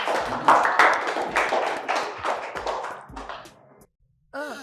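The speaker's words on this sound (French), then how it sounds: "pouvez-vous applaudir pour Mademoiselle Gift une fois de plus?" Audience clapping for a young woman being celebrated in a Nigerian drama, a dense burst of claps that rises and fades over a few seconds before dropping to silence, then a voice begins.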